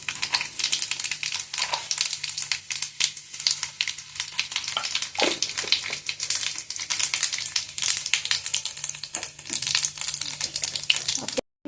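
Cumin seeds sizzling and crackling in hot oil for an Indian tempering, a steady close frying hiss with fine popping throughout, no talking over it.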